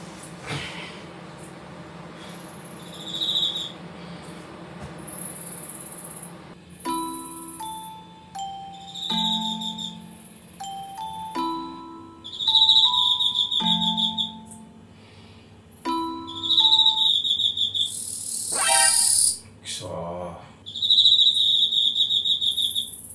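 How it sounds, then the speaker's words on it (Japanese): Crickets and Himegisu katydids chirp indoors in a room, heard as loud repeated bursts of bright trills and ringing chirps that alternate and overlap, with short pauses between them and no voices. "でもコオロギとかヒメギスも部屋で聞くと大きいね"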